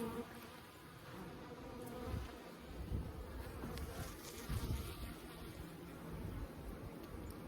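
Honey bees buzz steadily and densely around an opened Layens hive during an inspection in Holts Summit, a close, continuous swarm drone that never lets up.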